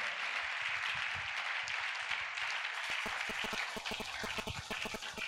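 A church congregation applauds at a sermon, sustained loud clapping from a large crowd, turning into sharper, more rhythmic claps toward the end.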